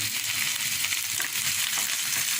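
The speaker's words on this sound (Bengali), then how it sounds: "একটু ভেজে নেব।" Chopped onions fry in a pan for a homemade chicken Manchurian, giving a steady, close broadband sizzle that runs unbroken with no voices.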